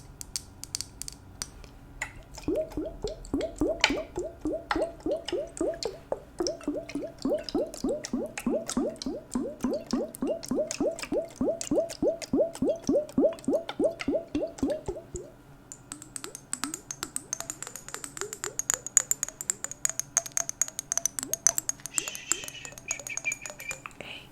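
Close ASMR water sounds from a container holding water: a steady run of soft, rhythmic drips and squishy trickles for about twelve seconds, then lighter scattered taps, with no talking.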